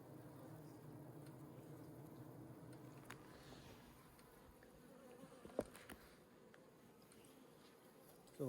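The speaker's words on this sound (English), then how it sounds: "That's bees enjoying their pollen patties." Faint, steady hum of honey bees crowding over pollen patties inside a hive, with a few soft clicks and one brief louder tap.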